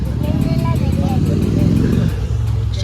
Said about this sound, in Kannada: ಯಾವ ಬೈಕ್ ಸೌಂಡ್ ಅದು ಇವಾಗ ಹೋಗಿದ್ದು